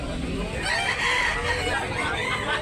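Chickens at a backyard breeder's yard in Tabunok, Talisay, Cebu crow and cluck steadily at moderate distance, with faint people talking underneath.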